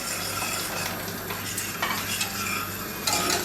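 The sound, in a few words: boiling water poured into a pan and stirred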